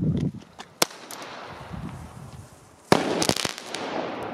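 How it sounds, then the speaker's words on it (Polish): A Hesti silver rain firework goes off during New Year's Eve celebrations, with a sharp crack, scattered pops, then a loud burst and a crackling hiss that lasts to the end. "To jest srebrny deszcz od Hesti."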